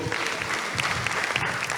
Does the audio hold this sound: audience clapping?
yes